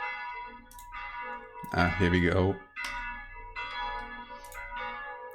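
Morning church bells ring out in a series of resonant, sustained peals that overlap and decay, with a brief spoken voice in between.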